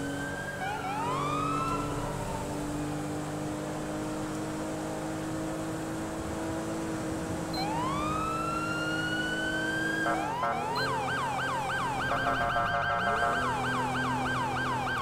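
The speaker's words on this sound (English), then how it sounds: "It's just gonna have the sirens as the music." Police sirens in the game Grand Theft Auto V (FiveM) wail and sweep up and down over engine hum, with a second siren joining in a fast yelping pattern near the end.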